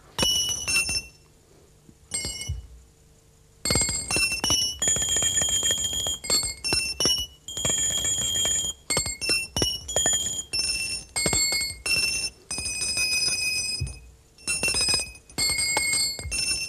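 Bells and a small chime rung during a close-up magic act, bright metallic rings repeated in bursts and clusters with short gaps, close and loud, with no talking over them.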